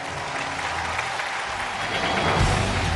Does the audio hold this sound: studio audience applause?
yes